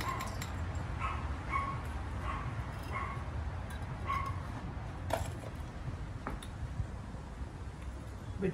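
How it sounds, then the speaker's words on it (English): Dogs bark in a nearby neighborhood, heard as several short, fairly faint barks and yips spread across an outdoor backyard potting scene, with a steady background hum. "Between neighborhood dogs barking, that's not my dogs"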